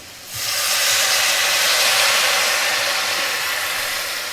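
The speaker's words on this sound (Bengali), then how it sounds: "জলটা এখন একটু দিচ্ছি" A loud, steady sizzling hiss bursts up as water is poured into hot cumin and coriander spices in a pan for rui fish curry, holding strong for several seconds close up.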